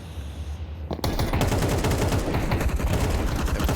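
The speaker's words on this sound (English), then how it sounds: "He's using that AK very comfortably." Rapid bursts of AK rifle fire in a Counter-Strike pro match, loud and close, starting abruptly and continuing as dense repeated shots.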